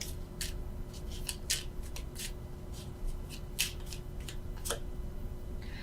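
Tarot cards rustle and slide softly against one another as one card is pulled from the deck, with brief crisp flicks and scrapes over a low steady room hum.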